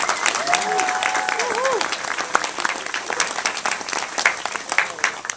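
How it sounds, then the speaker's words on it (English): Audience applause for the USA Cheerleaders at an Armed Forces Football awards ceremony at the Navy Memorial: steady, dense clapping from a crowd lasting the whole stretch, with a few voices and whoops rising over it early on. "so let's give them a big round of applause."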